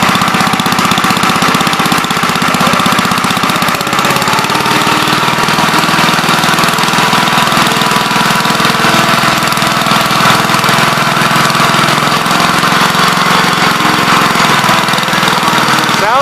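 A 1941 engine runs steadily and loudly close by, a continuous mechanical clatter with a rapid knocking rhythm that holds for the whole stretch without a break.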